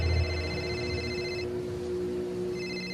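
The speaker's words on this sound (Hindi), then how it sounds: "उसी समय समीर का फोन बज पड़ा।" A phone rings with a steady electronic tone pattern, a clear repeating ring that pauses briefly mid-way, set in a Hindi horror story narration.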